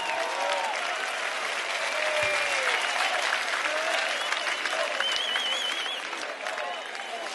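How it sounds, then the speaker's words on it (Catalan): Audience applause at a concert: dense, sustained clapping from a large crowd, steady and loud throughout with scattered cheers and whistles mixed in. "Un aplaudiment per ella."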